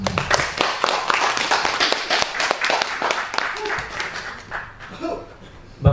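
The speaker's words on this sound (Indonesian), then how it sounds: "Berikan aplaus yang meriah." An audience at SMP Negeri 1 Cimahi applauds a speaker with steady, lively clapping for several seconds that fades toward the end, with a little talk around it.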